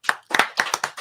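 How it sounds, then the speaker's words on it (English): A handful of separate hand claps ring out in a quick, slightly uneven rhythm, close and fairly loud, with nothing else heard between them; the audience at a retro gaming convention livestream debrief. "I just want to give a round of applause to our audience"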